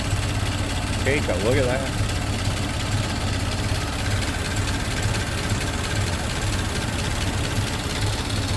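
A 1925 Ford Model T engine idling steadily with a low, even rumble that runs throughout, while someone speaks briefly near the start.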